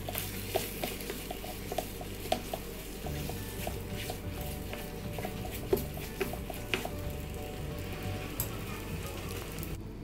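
Halbai, a Karnataka sweet mixture, being stirred in a pan: a continuous soft bubbling sizzle with light scraping and faint regular clicks of the utensil, fairly close, with no talk.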